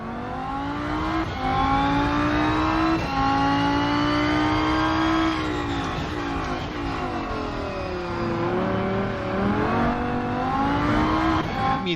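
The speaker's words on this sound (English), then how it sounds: "Immediate note is on the engine sound, as you probably can hear. Just sounds amazing." An Audi R8 GT3 race car engine in the Rennsport racing game revs loudly and continuously, pitch climbing and dropping through gear changes across the whole stretch, with no talking.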